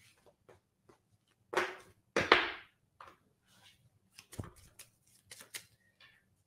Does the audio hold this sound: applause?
no